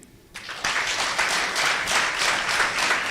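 Audience applause at a certificate awarding ceremony starts after a short quiet moment and swells into dense, steady clapping from a crowd that lasts to the end.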